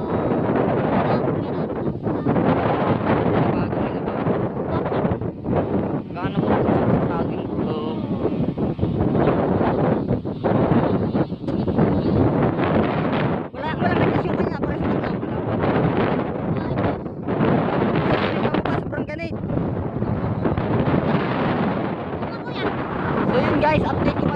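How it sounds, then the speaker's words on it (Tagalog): Strong monsoon wind buffets the microphone outdoors while a Superman-design kite is flown, loud rumbling gusts that surge and ease continuously, with voices talking underneath at times. "Lakas ng hangin"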